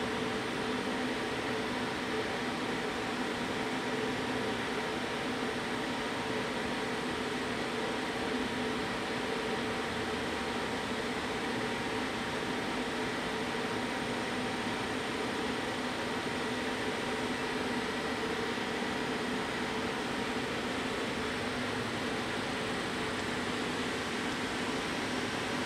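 A Shinri CNC lathe spindle turning steadily at 150 RPM, giving a constant, even mechanical hum and whir with no change in pitch or level and no talking.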